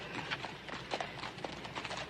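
Horse hooves clip-clop at a steady walking gait on a western trail, a regular rhythm of hollow knocks at moderate distance with faint background ambience and no clear talk.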